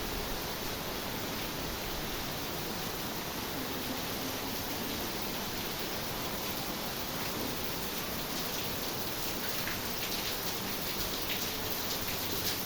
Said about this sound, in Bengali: অঝরঝরায় বৃষ্টি নামছে।